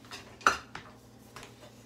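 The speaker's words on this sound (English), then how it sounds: "Okay, so I'm adding 1 cup of quinoa. I'm just gonna give that a stir." A spoon stirs a cup of quinoa in a metal pot, giving a few sharp, close clinks and scrapes spaced apart, with quiet pauses between them.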